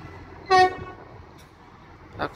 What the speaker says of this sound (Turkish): Bak tren korna çaldı.